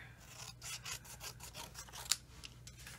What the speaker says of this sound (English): I'll just cut a few strips first here